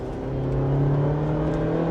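An SUV drives on engine power alone, a steady, even drone with a constant humming tone under a whirring road noise, no speech, holding at a level pitch throughout.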